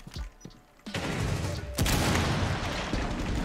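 In Rainbow Six Siege gameplay, shots are fired through a door: a few scattered pops first, then a loud, dense burst of gunfire that keeps rattling on without letting up.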